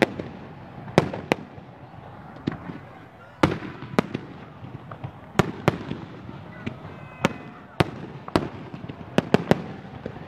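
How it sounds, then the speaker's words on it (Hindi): Fireworks burst over Minar-e-Pakistan on Pakistan Day, sharp cracking bangs popping at irregular intervals, some close and loud, others softer, over a low crowd murmur. "मीनार पाकिस्तान से आप ये मनाजिर देख सकते हैं, आतिशबाजी की ये खूबसूरत मनाजिर"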